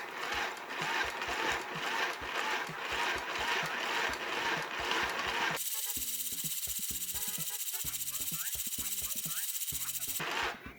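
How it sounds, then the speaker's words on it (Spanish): A mini sewing machine whirs at high speed while winding thread onto a bobbin, a loud continuous motor buzz with rapid pulsing that changes character partway through and then cuts off near the end. "aquí tenemos tal cual lo que es el carrete de hilo. Ya se está llenando con un poco más de hilo"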